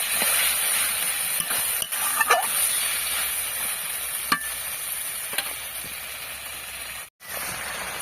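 Turmeric-coated rohu fish frying in hot oil, a steady close sizzle that carries through the whole stretch, with a few faint clinks and stirring scrapes and no talking.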